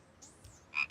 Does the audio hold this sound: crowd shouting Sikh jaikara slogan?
no